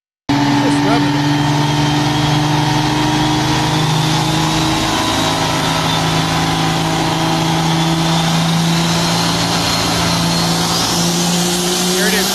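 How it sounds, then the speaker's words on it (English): A diesel truck engine revs hard and steadily, loud and close, a sustained roaring drone with slowly rising pitch over the whole stretch, with no pause. "he just was revving it."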